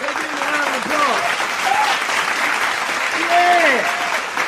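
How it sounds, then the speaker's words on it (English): A round of applause from an audience at a post-game talk show, steady clapping with a few whoops, continuing under someone talking throughout. "Sean, let's give him a round of applause."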